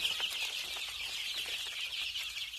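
Backyard chickens in a rural yard give soft, continuous clucking under faint outdoor ambience.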